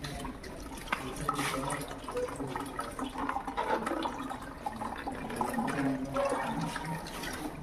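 A toilet cleaning machine releases water from its tank to flush a toilet, giving a steady rushing, gurgling wash of water that runs evenly through the whole stretch with no talking.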